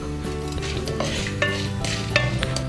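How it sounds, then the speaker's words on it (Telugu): Cumin, chana dal and urad dal fry in a pan over a continuous sizzle, with a few metallic ladle taps and scrapes while a steady hum runs underneath. "కొంచెం శనగపప్పు వేసుకోవాలి. వీటిని ఇప్పుడు కొంచెం ఫ్రై చేసుకోండి"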